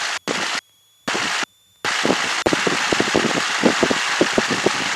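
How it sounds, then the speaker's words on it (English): An aircraft piston engine run-up at 1700 RPM: a rough, pulsing engine roar with rapid irregular popping beats, interrupted by a few abrupt cutouts before running on steadily. "Bring the engine up to 1700."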